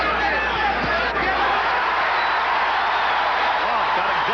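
Boxing arena crowd at a 1980 heavyweight bout, Teofilo Stevenson against Jimmy Clark, restless over the referee's antics: a steady, dense roar of murmuring voices at close range, with brief thuds and sharper shouts surfacing from the babble.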